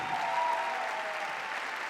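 Sustained audience applause fills the hall at a 2017 UK professional Latin dance competition, a dense, steady clapping wash at even volume, with a faint tonal hum underneath and no voices.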